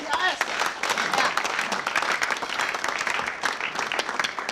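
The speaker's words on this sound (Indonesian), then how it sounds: "hadirin tepuk tangan buat Pak Ahmadi AS" A TV studio audience at a comedy quiz show claps for Pak Ahmadi AS, steady applause from many hands with voices talking and calling over it.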